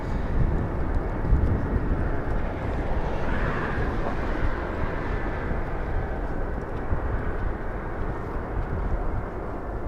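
A Boeing 757 spools up its jet engines for takeoff at Los Angeles International Airport, a broad, steady roar with deep rumble that holds level throughout, heard from a distance in open air.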